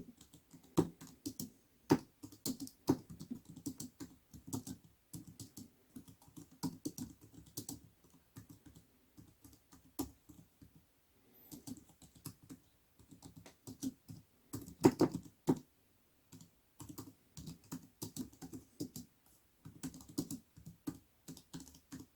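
Steady typing on a SEENDA SK64-B3 dual Bluetooth full-size keyboard, soft quiet keystrokes in a continuous irregular patter with brief pauses, close and alone.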